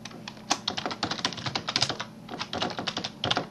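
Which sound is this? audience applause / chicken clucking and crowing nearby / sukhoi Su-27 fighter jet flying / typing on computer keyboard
typing on computer keyboard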